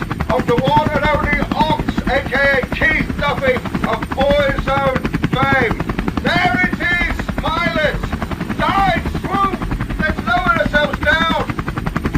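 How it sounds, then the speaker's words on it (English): Sound effect of a helicopter hovering and circling over Dublin: a loud, rapid, steady rotor chop throughout, with someone talking over it. "I'm on a chopper, hovering, circling over Dublin"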